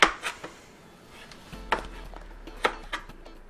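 A buttercup squash being peeled with a knife, producing sharp, close knocks and scraping cuts against a board, spaced irregularly with short pauses and a low hum underneath.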